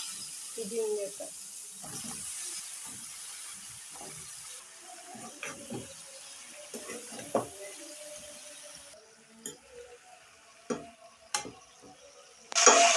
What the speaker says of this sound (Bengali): ভালো করে নাড়াচাড়া করে 2 থেকে 3 মিনিট আমি এটাকে রান্না করে নেব।